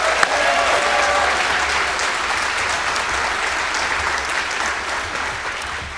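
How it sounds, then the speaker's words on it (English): A convocation audience bursts into a sustained round of applause, dense and steady clapping from a large crowd filling the hall for about six seconds with no voices on top. "So let's give them all another big round of applause."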